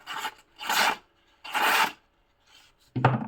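A Ganzo G627-BK knife slices through paper in four short, dry rasping strokes separated by pauses, close and clear, with no talking.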